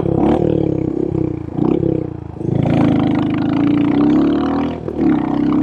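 A Royal Enfield Mongoose 350 custom motorcycle with a single-cylinder engine runs loud and close, its deep, throbbing idle rising and falling in a few rev blips.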